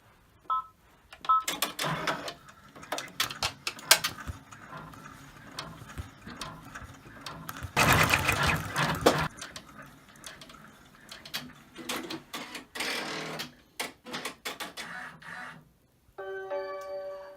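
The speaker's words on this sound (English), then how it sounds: "So the first run that it stitches is going to be a placement run, which will show me where to put my fabric." An embroidery machine stitching a placement run in an in-the-hoop key fob project makes rapid mechanical clicking and tapping in uneven bursts, with a short series of electronic beeps at the end.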